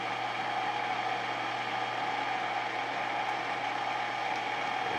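A metal lathe threads its carriage toward the chuck as the half nut engages, giving a steady, close mechanical whir with a constant hum and fine gear rattle throughout, and no voices.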